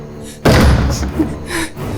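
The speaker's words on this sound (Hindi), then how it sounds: "दरवाजा खटखटाना बंद करो।" A single heavy bang against a door, loud and close, followed by a lingering rumble and a few softer knocks.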